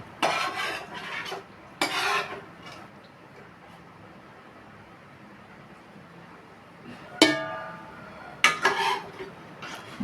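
Curry being added to a chicken liver dum biryani pot with ghee and stirred in, heard as two bursts of close metallic clatter and scraping against the pot, separated by a quiet stretch.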